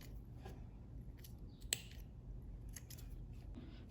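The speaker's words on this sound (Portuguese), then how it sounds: "Vou até cortar aqui um pouquinho desses fiapos." Scissors snip loose threads from sewn fabric, a quiet cluster of short cuts with one sharper close snip near the middle, over faint room noise.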